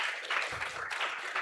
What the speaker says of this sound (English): So big applause, and we are looking forward to your talk.